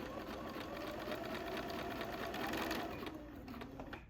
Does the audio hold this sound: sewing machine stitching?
yes